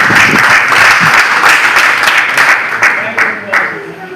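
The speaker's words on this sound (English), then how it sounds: "Clap for Africa." Loud, sustained applause from a crowd at a traditional Igbo ceremony in Anambra State, dense clapping that holds steady for several seconds with voices mixed in before it starts to ease off.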